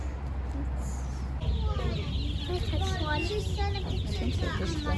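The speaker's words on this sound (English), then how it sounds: "Look at these chickens." Chickens cluck and chatter in short, overlapping calls at close range on a farm, with people talking over them.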